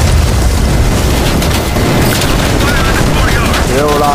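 Explosions and gunfire in Call of Duty Cold War combat, a dense, loud wall of booming blasts and rattling fire throughout, with radio-like chatter and tonal squeals near the end.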